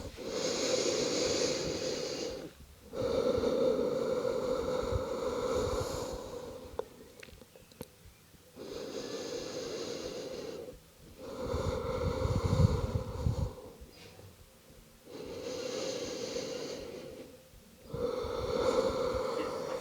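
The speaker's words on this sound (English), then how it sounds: "take a few breaths here" Slow, deep breathing held in a seated yoga pose with knees hugged to the chest and forehead on the knees; about four long, audible breath cycles, close and soft, with airy inhales and exhales separated by brief pauses.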